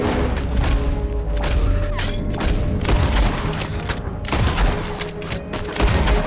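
Guns fire over and over in a Red Dead Redemption 2 shootout against O'Driscoll gang members, loud and dense with overlapping cracks and booming reports, repeated for the whole span without any talking.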